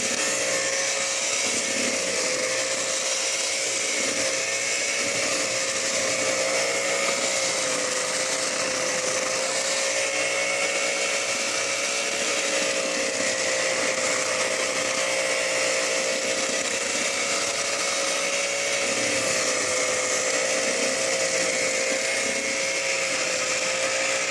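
An electric mixer beats cake batter with eggs in a home kitchen, a steady loud motor whir with a constant pitch that continues unbroken for the whole stretch.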